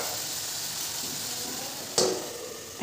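Spiny gourd cooks in a pan with garlic paste, chili-onion paste, salt and turmeric, giving a steady close sizzle throughout, with one brief utensil scrape near the end.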